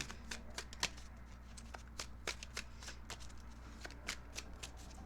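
Tarot cards are shuffled by hand in a quiet room, a rapid run of crisp riffling bursts repeating every few tenths of a second, close but faint.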